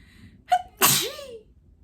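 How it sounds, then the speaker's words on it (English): A single sharp, close sneeze from a person at home on a cozy evening, a short intake followed by a loud burst in an otherwise quiet room. "I just sneezed all over myself."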